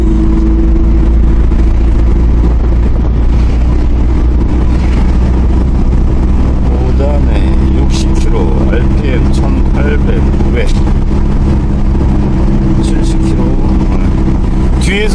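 A 1998 Hyundai Porter truck engine accelerating in fifth gear gives a loud, continuous, close-up roar that holds throughout, with voices speaking faintly beneath it.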